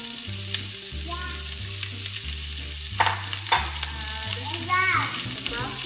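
Chopped onions hit a hot pan for baked teriyaki salmon veggies, a steady loud sizzle and frying hiss throughout with a few stirring scrapes and clinks, no talking.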